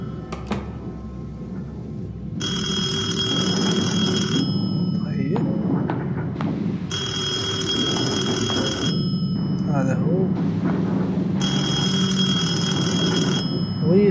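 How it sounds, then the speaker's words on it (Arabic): In the Detention horror game an old telephone rings in three long, shrill bursts with pauses between them, over a low droning ambience, while a person talks throughout. "هو هذا هو صوت التلفون."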